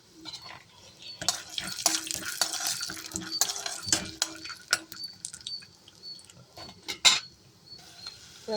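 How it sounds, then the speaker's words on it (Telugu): Peanuts and two dried red chillies fry in hot oil for a beetroot chutney, with a steady crackling sizzle under repeated metal stirring and spoon scrapes against the pan, close and fairly loud. "ఇందులోకి తీసుకున్న పల్లీలు వేస్తున్నాను"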